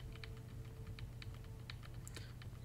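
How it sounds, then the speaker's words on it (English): Computer keyboard keys clicked in quick irregular bursts close to the mic, moderately quiet over a steady low hum, while a map is updated during a Skyrim Special Edition session. "You probably hear me clicking on my keyboard at the moment"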